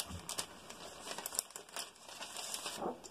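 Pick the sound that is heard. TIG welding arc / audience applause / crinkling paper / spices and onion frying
crinkling paper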